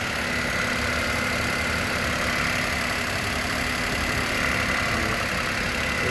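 A Wagon R VXi petrol car engine idles steadily after a cold morning start, a constant close mechanical hum and drone with no talk.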